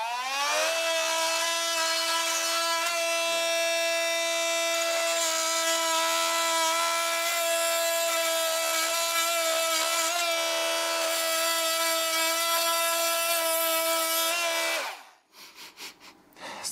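A Bosch power saw with a carbide blade cuts into steel and throws sparks, a loud, steady tonal whine held for about fifteen seconds before it cuts off and winds down into softer clatter.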